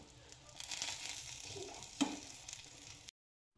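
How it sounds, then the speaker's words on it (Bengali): Luchi frying in hot oil until golden brown, a steady close sizzle and crackle with a brief louder pop before the sound cuts out. "আর একটু গোল্ডেন ব্রাউন কালার করে ভেজে দিই"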